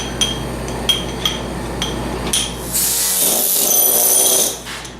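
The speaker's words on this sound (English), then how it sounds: "Taking the chisel and twisting it like that." A sculptor's chisel twisted against the surface while carving coils of hair, heard as sharp scraping clicks and taps followed by a longer bright grinding scrape, close and alone.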